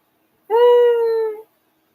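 A stop-motion dog creature from the 1981 film Clash of the Titans lets out one clear, tonal howl or whine that lasts about a second and stands alone in silence.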